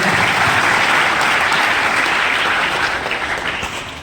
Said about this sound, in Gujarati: બહેનોને ફરીથી એકવાર આપણે તાળીઓથી વધાવી લઈએ